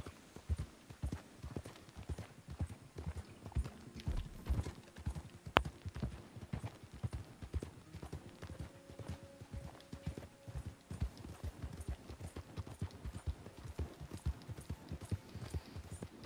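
Horse hooves clip-clop in the video game Red Dead Redemption 2, a steady close rhythmic clatter of footfalls across the whole stretch, with faint tonal game sounds in the middle.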